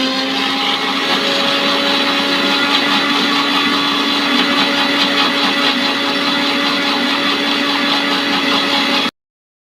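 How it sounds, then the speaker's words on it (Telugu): A mixer grinder runs loud and close with a steady high whirring motor drone that holds constant and then cuts off abruptly just before the end. "చూడండి, గ్రైండర్ వేస్తాను."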